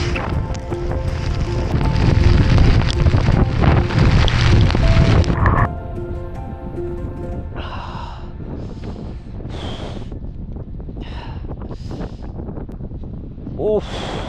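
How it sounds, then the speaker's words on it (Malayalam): Strong wind buffets a motorcycle rider during a hailstorm on a ride in Ladakh, a loud roaring rush for about five seconds that then drops to a steadier, lower gusting with scattered brief bursts. "കാറ്റടിക്കുന്നുണ്ടായിരുന്നു ഭയങ്കരമായിട്ട്"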